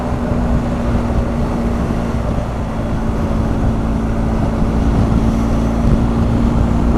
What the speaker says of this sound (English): As you'd expect from the Boxer Twin, it is quite noisy and torquey